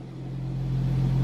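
A V8 engine idles with a deep, steady low rumble close by, its level swelling gradually over the short stretch, with no talk over it.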